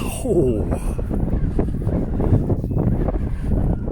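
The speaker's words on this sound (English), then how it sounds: "That wind, which you can probably hear on the microphone, is biting." Strong wind buffeting the microphone on a cold hilltop at dawn on the Hill of Tara, a loud steady low rumble that runs throughout while someone speaks over it.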